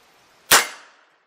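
A single sharp crack from a revolver firing a nail gun blank, loud and close, with a short ringing decay.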